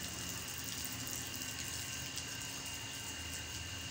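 Water running and splashing steadily while a prayer mat is washed, a continuous, soft gushing flow with no voices.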